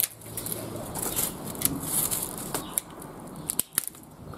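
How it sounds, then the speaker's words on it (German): Scissors snip through the stiff fronds of a sago palm (Cycas revoluta) houseplant, with a few sharp cutting clicks near the end over soft rustling and background noise. "Und dann nehmt ihr eine Schere und es ist jetzt hart, aber da müsst ihr durch. Ihr schneidet erstmal alle Blätter ab."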